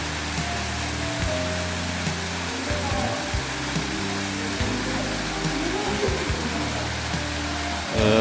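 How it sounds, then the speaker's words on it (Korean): Deungseon First Waterfall on Samaksan mountain pours in a steady, loud broadband rush that fills the whole stretch, heard close with no talking. "등선 제1폭포입니다."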